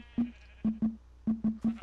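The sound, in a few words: sheep bleating in Minecraft video game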